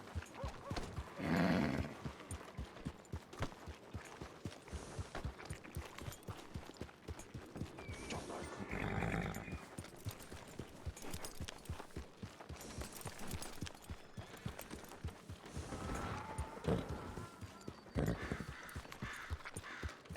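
Horse hooves clip-clopping in a western ranch roleplay game, a steady rhythm at moderate loudness over a busy background with creaks and a brief whinny.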